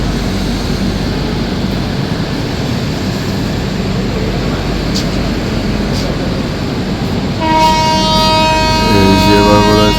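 The Sealdah Duronto Express departs from Puri with a loud, steady rumble, then a long horn blast sounds near the end, with voices heard around it.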